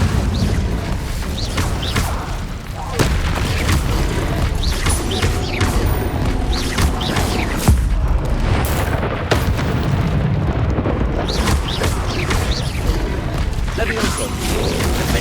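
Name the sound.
Incendio fire spell blasts in Hogwarts Legacy video game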